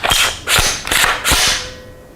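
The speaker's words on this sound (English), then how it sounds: "it is a nice smooth bolt" The bolt of an HK MR556A1 rifle is worked by hand: about four crisp metallic clacks and slides in quick succession, close and loud, fading to quiet at the end.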